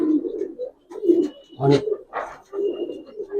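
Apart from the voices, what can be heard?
Giribaz pigeons cooing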